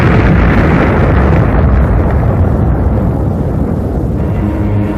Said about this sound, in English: it broke into our atmosphere, and then came the explosion.